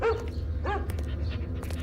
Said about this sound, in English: You can stream it while you walk the dog.